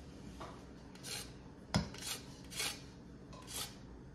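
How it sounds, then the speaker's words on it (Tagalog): Lime zest being grated for a homemade dessert, a series of short rasping scrapes, about six strokes in a loose rhythm with one sharper knock, close and fairly quiet. "I will add a little bit lime zest"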